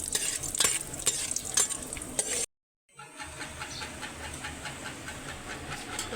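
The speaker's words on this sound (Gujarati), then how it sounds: "આપણે એમાં નાખવાનું છે પહેલાં કાજુ અને બદામ. અને આપણે શેકી લેવાના છે પહેલાં ઘીમાં" Cashews and almonds roast in hot ghee for fada lapsi, giving a continuous sizzle with rhythmic stirring scrapes. A brief silent break comes partway through before the frying and stirring resume.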